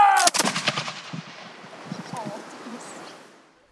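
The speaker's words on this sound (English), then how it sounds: "As I pull that trigger, the flint comes forward, the flint strikes that steel." An 18th-century British Land Pattern flintlock musket fires once outdoors: a sharp, loud blast at the very start, followed by a long rolling echo that slowly fades.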